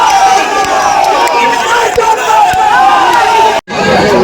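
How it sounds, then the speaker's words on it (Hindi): A large crowd in Amethi welcomes the chief minister with loud, continuous cheering and chanting that stays dense throughout, then cuts out briefly near the end before resuming. "जोरदार तालियों के साथ अपने यशस्वी मुख्यमंत्री का स्वागत करें"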